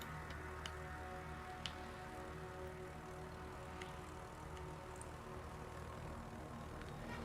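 Aircraft engines droning in the naval combat game World of Warships, a steady faint propeller hum that stays even throughout, with a few light ticks over it.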